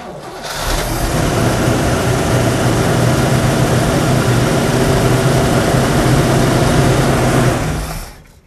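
A car engine fitted with a new Edelbrock carburetor fires up and runs loud and steady at a close distance for several seconds, then cuts off abruptly.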